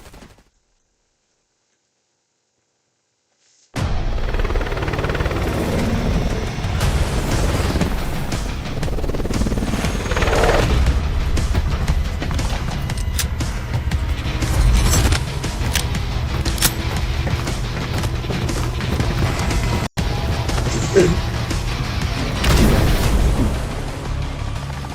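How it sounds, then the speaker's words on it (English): Impact grenade explosions in a Call of Duty video game burst out after a few seconds of silence, booming and crackling among rapid gunfire in a dense, loud, sustained barrage. "Enemy impact grenade."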